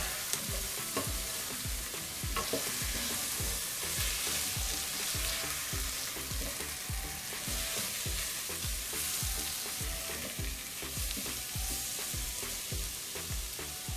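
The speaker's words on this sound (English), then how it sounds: "Okay, we don't want to burn masalas, so we're just gonna cook for a few minutes. Just fry masalas." Garlic-ginger paste and tomato masala fry in a pan for a spinach and potato dish, with a continuous close, bright sizzle and repeated scraping of a spoon stirring through the mixture.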